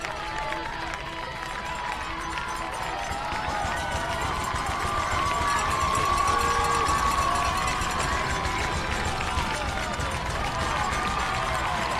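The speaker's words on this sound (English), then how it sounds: "And the crowd for Heritage, they're fired up." Heritage Christian lacrosse fans cheer steadily throughout a boys high school semi-state game against Guerin Catholic, a dense, continuous roar of crowd noise with whistles and shouts rising slightly in the middle.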